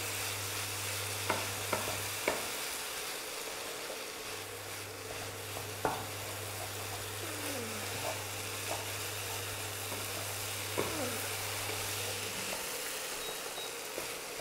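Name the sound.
stirring cauliflower, potato and peas sabzi in a pan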